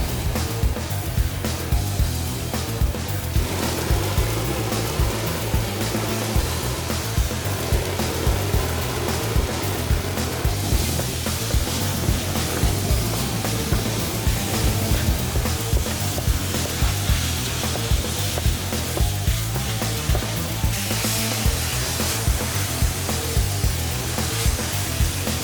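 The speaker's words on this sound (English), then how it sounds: "the concrete flows through the hoses, it goes through the nozzle, and the nozzleman starts spraying the wall" Shotcrete nozzle spraying concrete onto a wall at a 45-degree angle, working into the corners in layered bench lifts; a loud, steady, broadband hiss and spatter with a low machine rumble beneath, continuous throughout.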